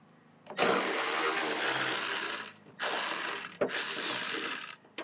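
Ratcheting T25 Torx driver backing out screws on the trunk lid of a BMW E46, three long bursts of fast clicking close up, separated by short pauses, with no talk.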